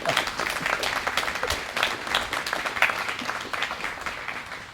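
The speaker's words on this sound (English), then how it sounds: "Let's applaud." An audience at a cum laude honors ceremony breaks into sustained applause, a full, dense wash of clapping that stays loud and steady from start to finish.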